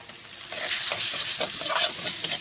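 Tomatoes hit a pan of frying spices, bringing a brief close sizzle with a few stirring scrapes and soft clatter over a couple of seconds.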